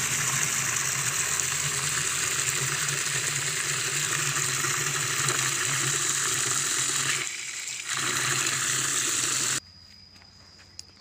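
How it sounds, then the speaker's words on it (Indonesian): Water gushes steadily into a pesticide spray mix for durian trees, a loud, continuous rushing close by with a brief dip partway through, then it cuts off abruptly, leaving faint background noise. "Jadi kita tambahkan air."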